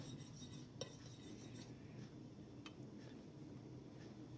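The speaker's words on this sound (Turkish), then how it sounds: "Yumurta sarısı kullanıyorum 3 tane. Şöyle karıştırıyorum." Quiet clinking of a utensil against a bowl while three egg yolks are stirred, with light scraping and occasional sharper taps over soft background noise.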